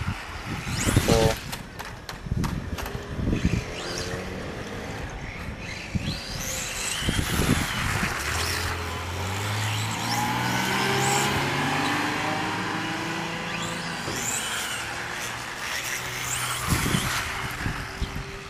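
An RC car, a Vendetta with a Neu motor, accelerates under throttle: sharp clicks and short bursts give way to a rising, whining electric motor rev that swells in the middle, then settles into rough rolling noise outdoors.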